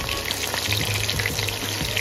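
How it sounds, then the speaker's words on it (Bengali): Chicken pakoras deep-frying in oil give a close, steady sizzle full of crackling pops, with no voices. "চিকেন পকোড়াগুলো এখানে আমার ভাজা হয়ে গেছে।"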